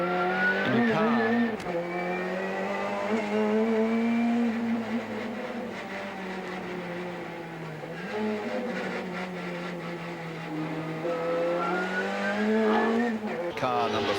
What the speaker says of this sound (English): This is the BMW M3 being shared by Brett Riley and Ludwig Finnar